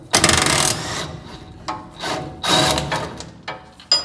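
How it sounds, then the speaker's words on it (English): A 3/4 inch wrench and driver work loose the bottom nut of a front shock absorber on a Ford F100, giving several bursts of rapid ratcheting clicks separated by short pauses, close and fairly loud. "we can use a 3/4 inch wrench and a 3/4 inch driver"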